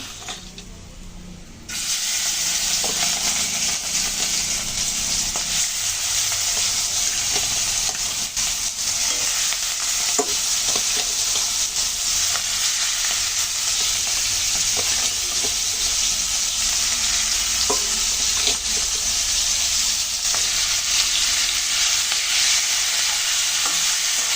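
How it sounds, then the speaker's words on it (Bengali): Shrimp fry in a pan for a Bengali shrimp dish made with plantain, giving a loud, continuous sizzle and hiss that starts abruptly and holds steady throughout, with occasional stirring clicks and no talking. "একদম সুন্দর করে আমি ভেজে নেব।"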